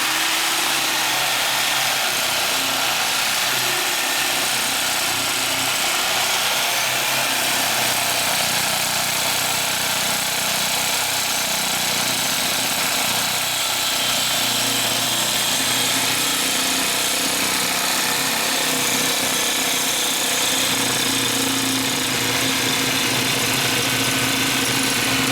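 A power drill bores holes in a cast iron motorcycle cylinder, a loud unbroken motor whine that holds steady throughout with no pauses.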